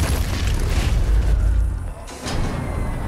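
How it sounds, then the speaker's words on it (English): The BFG 9000 fires in DOOM Eternal, giving a loud, deep booming blast with a sustained rumbling roar that briefly dips and then surges again. "BFG 9000 is capable of killing most demons with a single shot"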